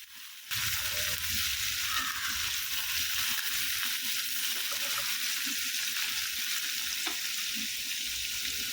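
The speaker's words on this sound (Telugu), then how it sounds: "ఇలా రెండు వైపులు తిరిగేసుకుంటూ చక్కగా ఫ్రై అయిపోవాలి" Fish pieces frying in oil in a pan produce a steady, even sizzle that starts abruptly and continues throughout, with a few faint clinks along the way.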